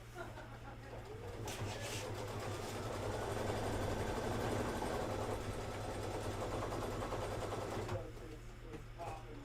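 Sewing machine stitching black thread over glitter fabric, a steady mechanical whir running for about six seconds at moderate loudness over a low hum, easing off near the end.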